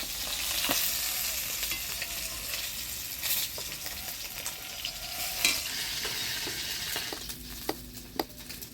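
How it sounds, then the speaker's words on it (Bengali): Katla fish pieces fry in hot oil and are lifted out, a steady close sizzle with stirring scrapes, ending with a few sharp clinks of the utensil. "মাছগুলো ভালোভাবে ভাজে নিলাম এবার তুলে নিই"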